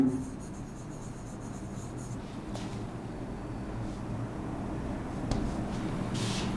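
Marker or chalk scratching steadily across a classroom board, a continuous close rubbing stroke with a few brief pauses and no voices.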